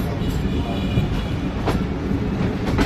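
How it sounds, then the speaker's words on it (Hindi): Khyber Mail express train, the 2 Down service, pulling away from Kot Lakhpat railway station after a two-minute stop, a steady loud rumble of rolling carriages with faint rail clatter throughout, no voices. "टू डाउन का डिपार्चर हो गया कोट लखपत रेलवे स्टेशन से।"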